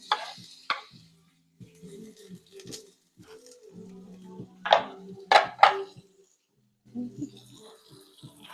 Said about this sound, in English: You can probably hear some of the chops now.